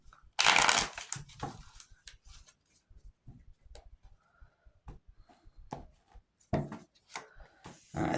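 Tarot cards shuffled by hand in a few short bursts: a loud riffling flutter at the start, then softer taps and slides with brief pauses, close and with no talk.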